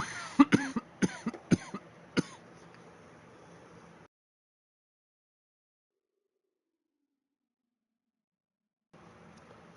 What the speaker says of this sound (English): Sorry about the 420 coughs, everybody.